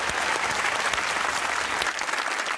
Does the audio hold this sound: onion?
no